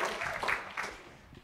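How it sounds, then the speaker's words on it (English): An audience applauds a speaker being welcomed onto a stage, a short burst of clapping that swells and then fades over a second and a half. "Everyone clap loud for awesome Cap."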